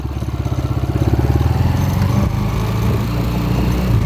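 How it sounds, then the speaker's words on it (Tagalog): A Honda TMX155 motorcycle engine with a loud whine in first gear, thought to come from the clutch side, runs close and steady with a throbbing low pulse that gradually builds and holds. "Napakalakas ng ugong sa Primera."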